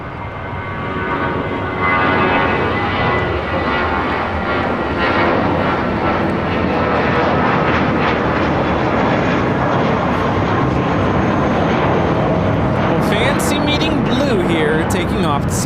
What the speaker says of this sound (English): Taking off to Salt Lake City on this JetBlue A320 flight 1732.